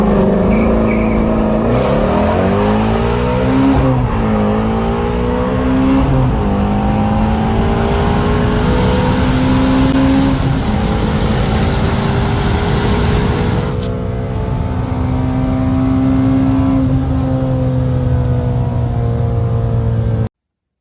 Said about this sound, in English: that sounds like a 2019 Shelby GT350R slamming them gears on the floodplains